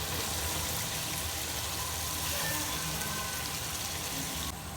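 Masala and potatoes sizzle in a pan, a steady, hissing fry heard close and continuous without talking, cutting off abruptly at the end.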